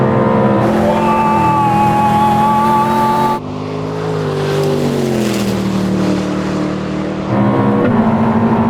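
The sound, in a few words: Koenigsegg car racing at top speed in desert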